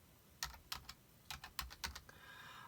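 Light typing on a computer keyboard, a quick irregular run of soft key clicks in two brief bursts, close and fairly quiet with no talking.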